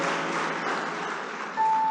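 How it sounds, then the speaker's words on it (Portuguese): A church congregation applauding together, a dense and steady wash of clapping that fills the space, with a thin high tone cutting in near the end. "Eu peço uma salva de palmas a Jesus, que Ele é digno."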